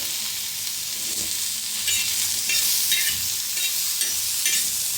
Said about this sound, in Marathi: आता त्याच्यातच कांदा बी भाजून घेऊया तव्यात